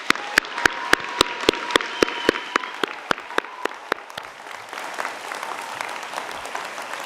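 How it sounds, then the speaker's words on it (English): Graduation ceremony audience at a master's ceremony applauding, a loud dense clapping with a sharp regular beat of nearby claps in the first half, then settling into a softer, even wash. "Please give them all and yourselves a hard round of applause."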